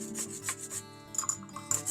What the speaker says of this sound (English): I do prefer to grate it by hand instead of putting it into a machine